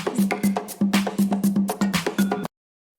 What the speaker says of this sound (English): Yes, it's a zebra.